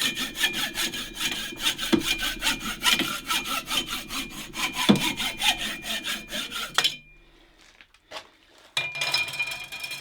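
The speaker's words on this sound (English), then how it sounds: "No, it's back to the trusty hacksaw on this one." A hacksaw draws through metal in a steady back-and-forth rhythm, with quick regular strokes that are close and loud. The sawing stops abruptly near the end, leaving brief clinks and handling sounds.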